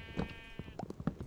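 A sheep bleats in the Minecraft video game, a few short wavering calls over about a second, close and fairly quiet, with no speech.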